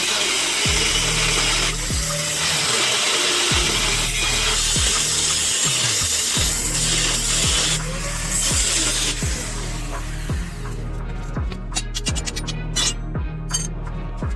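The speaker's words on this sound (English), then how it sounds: "So for this I will cut this piece into 2 strips" A power tool cuts a metal piece into two strips for a heavy-duty rocket stove, its steady grinding whine broken by repeated short strokes and pauses, ending in sharp, scraping clatter.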